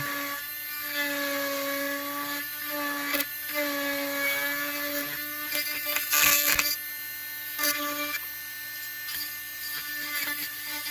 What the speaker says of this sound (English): Bury half the burr into the plastic material, and that's all you need.